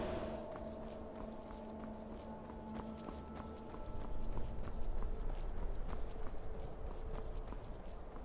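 Horse hooves clop in a steady walking rhythm in the video game Skyrim, moderately close, growing a little louder partway through over a faint ambient background.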